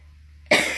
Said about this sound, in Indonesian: mohon maaf ya saya batuk